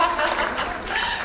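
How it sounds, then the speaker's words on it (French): An audience at a women authors' speaking event claps in a brief, dense burst of applause, steady throughout with voices underneath. "Applaudissons plus fort."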